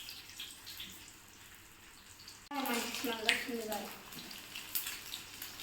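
Fish dropped into hot oil set off a sudden loud sizzle that keeps bubbling and crackling, with a voice talking over it.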